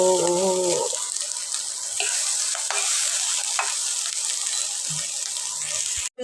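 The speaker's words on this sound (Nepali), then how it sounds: "मकै फ्राई गर्दैछु साथी हो मकै हो" Corn frying in a pan gives a steady, bright sizzle with a brief clatter of stirring at the start and faint knocks of utensils, and no talk.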